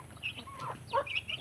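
A farm chicken clucks nearby with a few short, bright calls, moderately loud and alone against a faint steady background hum.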